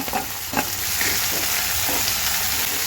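Onion pieces frying with dried red chilli in a pan for stuffed brinjal curry, a steady, loud hissing sizzle throughout with a couple of soft stirring scrapes near the start.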